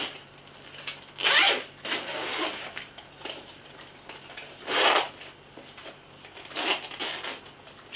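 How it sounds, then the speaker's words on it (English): Zipper on a drawing satchel drawn closed in a few quick rasping pulls, close and fairly loud, with short pauses between strokes and no talking. "Just zips all the way up."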